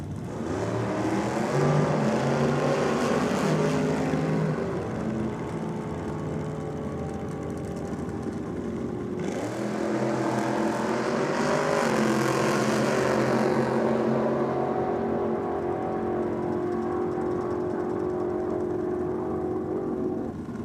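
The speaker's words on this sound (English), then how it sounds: "Valiant Wagon up against the Chev Bel Air" A Valiant Wagon and a Chev Bel Air thunder down a drag strip, engines roaring loud and continuous, with a rising surge as one car passes and a second swelling pass, no talk over it.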